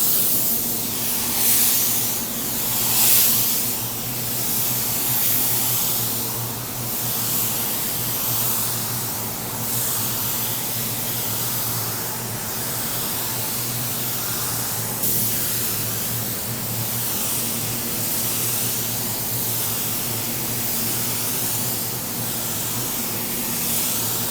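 Spray gun laying a second coat of pearl white paint on a car: a loud, steady hiss of atomized paint that swells and eases slightly with each pass and runs unbroken throughout, with no talking.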